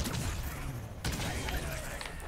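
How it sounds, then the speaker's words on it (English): A pirate cannon turret fires in Plants vs. Zombies Garden Warfare 2, sharp cannon blasts punching through a busy game soundscape, a few distinct bursts with a final crack at the end. "One of the pirate's abilities is he goes on this cannon turret, which is, can do some damage."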